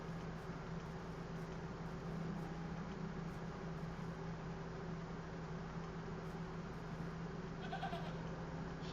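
Goat bleats sound in The Excavation of Hob's Barrow, a point-and-click adventure game, amid a steady droning ambient background, with faint bleating bursts near the end.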